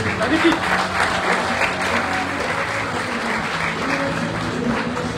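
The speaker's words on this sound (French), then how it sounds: "applaudissez pour la sécurité" An audience at a New Year greetings ceremony applauds loudly and continuously, dense clapping with a faint murmur of voices underneath.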